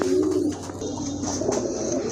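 A pigeon coos softly nearby, a low throaty murmur repeated a couple of times in a short stretch.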